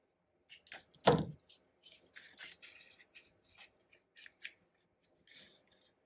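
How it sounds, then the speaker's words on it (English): Scissors snip paper being trimmed for an expanding envelope in a quiet room, one sharp close cut followed by a series of lighter snips and paper rustles. "I'm just going to trim a little bit more off."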